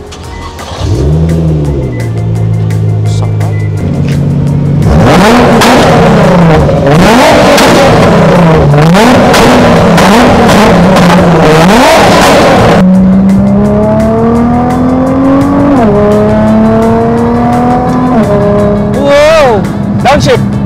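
A GTR car engine revs hard while driving, loud and close, its pitch climbing and dropping through gear changes for about twenty seconds.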